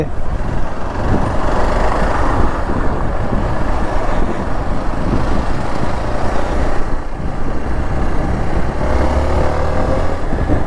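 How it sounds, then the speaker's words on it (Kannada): A car running and sputtering with an apparent clutch problem makes a steady, loud engine and road rumble, with no clear cutoff standing out, while traffic noise continues around it. "ಗಾಡಿ ಕಟ್ ಆಫ್ ಕಟ್ ಆಫ್ ಆಗ್ತೈತೆ ಕ್ಲಚ್ದೇನೋ ಪ್ರಾಬ್ಲಮ್ ಗುರು"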